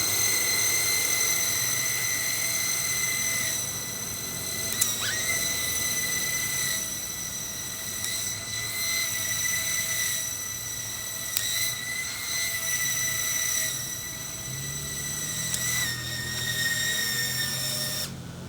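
The small fans of a flying fidget spinner whir after it is switched on, a steady high-pitched motorized whine with sharp tonal layers and slight wavering pitch, held close for the whole stretch with no talking.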